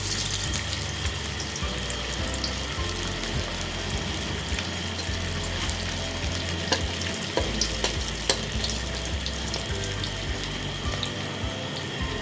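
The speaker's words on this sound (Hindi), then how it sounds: "हमारे ऑयल गर्म हो गए हैं। अब एक एक करके हम इनमें डाल देंगे।" Chapli kebabs fry in hot oil, a steady dense sizzle and crackle running the whole time at close range, with a few sharper pops and spatters rising above the constant hiss and no talking.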